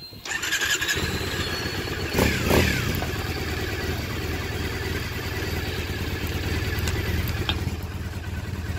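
A 2013 Triumph Thruxton motorcycle engine with an aero exhaust starts and settles into a steady idle, a close, loud rumbling throb with a brief rise in revs early on.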